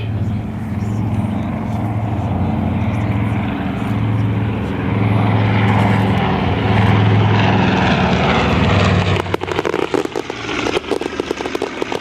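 A Vultee BT-13 trainer flies a watermelon bombing run at an airshow, its propeller engine droning loud and steady, then giving way to crackling bursts near the end.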